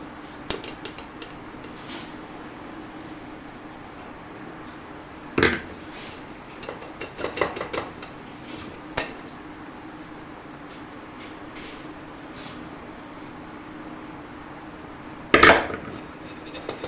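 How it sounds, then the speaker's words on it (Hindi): Homemade ghee is transferred into a container, with a few sharp utensil clinks and brief clatters scattered over a steady low background hum, close and moderately loud. "तो बस अब इसमें इसको ट्रांसफ़र कर दूँगी। तो अभी ये मैंने इसमें घी को डाल दिया।"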